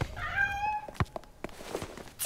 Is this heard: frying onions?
no